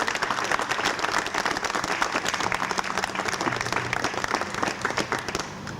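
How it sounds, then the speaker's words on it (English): An audience gives a big, enthusiastic round of applause for former Providence governor Bruce Sundlun, with close, dense clapping sustained throughout and a faint crowd murmur beneath. "let's have a big round of applause to a Providence native who did a lot for the city of Providence"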